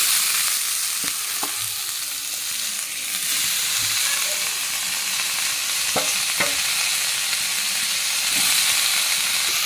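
Shredded cabbage stir-fries in a pan with chopped ginger and green chilli, a continuous close sizzling hiss broken by several sharp clinks and scrapes of the spatula.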